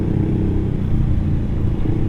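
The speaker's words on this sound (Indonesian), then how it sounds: "Wow, knalpot dia nembak-nembak," Idling exhaust of a Suzuki GSX-R150 motorcycle fitted with an R9 Mugello aftermarket muffler, heard as a close, steady low rumble with a slight clattering texture and no talk.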